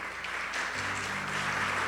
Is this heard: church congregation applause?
yes